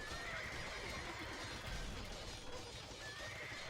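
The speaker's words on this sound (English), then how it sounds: "Horses dying everywhere." Horses neigh and whinny as they die in battle in Age of Empires II, faint game sound effects with whinnies at the start and end over a busy, noisy background.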